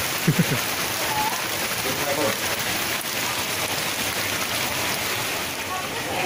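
Rain falls steadily at dawn over a garden, a dense and continuous patter that stays even throughout, with a brief faint voice near the start.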